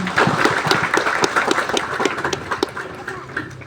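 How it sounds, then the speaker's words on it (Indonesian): A Sunday church congregation claps, with distinct individual claps forming an uneven, moderately loud rhythm that thins out toward the end, and a faint voice briefly underneath. "Mari kita tepuk tangan untuk Tuhan."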